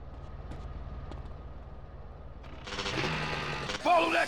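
A train passes in GTA San Andreas during a chase mission, a low rumble under game dialogue swelling into louder clattering, rattling rail noise in the last seconds.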